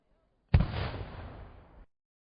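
One cannon fired from a ship gives a single deep boom that hits suddenly and rolls off over about a second, loud against an otherwise silent background.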